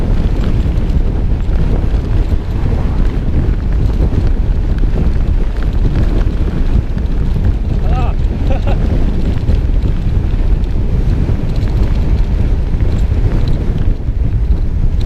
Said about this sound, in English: it's windy too.